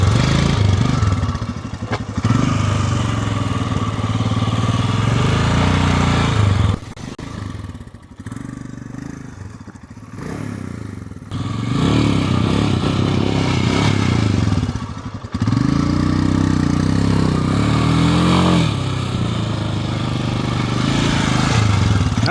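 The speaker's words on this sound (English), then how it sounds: "Throttle blipping." Motorcycle engine during slow-speed riding practice, with repeated throttle blips rising and falling over a steady mid-pitched running note, loud and close, with brief lulls between bursts and no talk.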